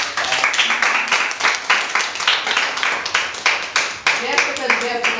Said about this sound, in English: I really enjoyed that round of applause.